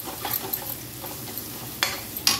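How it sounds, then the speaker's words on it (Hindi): Turmeric being stirred into golden-brown onions frying in a pan for dhaba-style aloo gobhi, with a low sizzle under soft scraping strokes and a few sharper utensil clinks near the end. "हल्दी डाल के इसको हम चलाएंगे"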